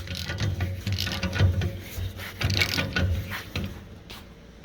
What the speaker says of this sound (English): I got a ratchet here. We can snug those guys down.